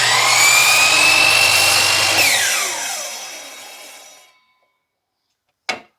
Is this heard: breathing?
no